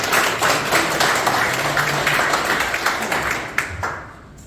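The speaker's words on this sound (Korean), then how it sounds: "큰 박수 한번 부탁드립니다." Audience applause at a campaign appointment ceremony for a presidential election team in Gyeryong, South Korea: dense, steady clapping from a crowd, holding level for about four seconds before thinning out near the end.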